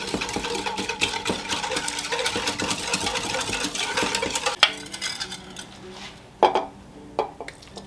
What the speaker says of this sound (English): And I'm going to whisk these all together